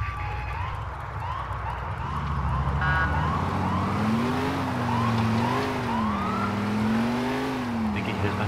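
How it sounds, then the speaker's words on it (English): A police car siren wails in GTA IV, a close, loud rising and falling tone cycling repeatedly over engine noise and background game sound. "Siren."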